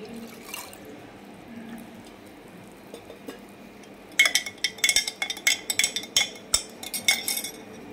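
A spoon stirs Glucon-D powder into a glass of drink, giving a quick run of bright, irregular clinks against the glass after a quiet start with faint background rustle.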